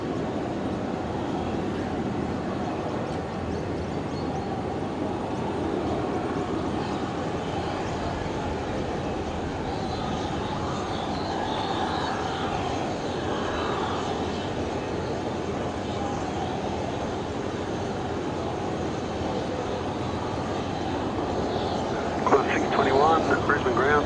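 An aircraft taking off at Brisbane Airport: a steady, broad engine roar holds at an even level throughout, rising slightly near the end, with radio chatter over it.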